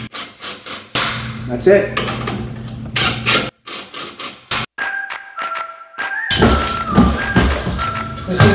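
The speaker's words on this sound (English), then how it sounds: "I'm going to use my torque gun." Torque gun driving bolts fitted with lock washers while mounting a new attic ladder, giving several loud, sharp bursts of rapid hammering separated by short pauses, with a brief whine and a few spoken words near the end.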